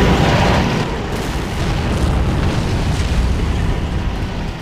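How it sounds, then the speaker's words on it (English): A Land Mattress rocket artillery barrage in Men of War, heard as a loud, continuous rumbling roar of overlapping blasts that holds steady without a break. "So I'm using my land mattress here to nail that right flank."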